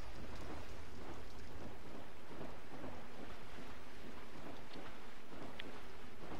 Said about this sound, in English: Hail sucks, man.